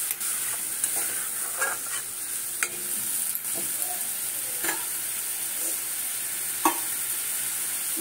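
A cashew, coconut and poppy seed paste sizzles steadily in a hot pan, with occasional stirring scrapes and clinks over the continuous frying hiss.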